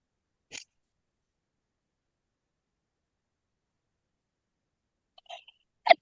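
Two short, sharp sneezes, faint and a few seconds apart, separated by near silence.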